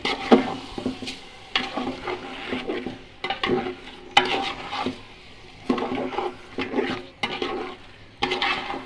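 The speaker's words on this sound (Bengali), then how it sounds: "চালগুলো ভালো করে ভাজা ভাজা করে নেবো।" One kilogram of rice is stir-fried in a pot, heard as repeated bursts of scraping and rustling as the grains are stirred, with short pauses between strokes.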